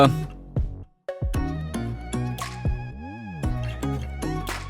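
A phone ringtone plays a bright electronic melody of repeated tones, close and clear, ringing on with no one answering.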